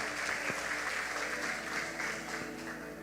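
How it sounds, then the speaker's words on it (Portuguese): A church congregation applauds a visiting preacher, with steady, fairly distant clapping mixed with crowd murmur and a faint hum throughout. "pastora Cindy, aplaudindo bem forte o nome do Senhor."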